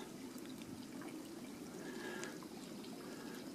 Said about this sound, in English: The creek is just gorgeous.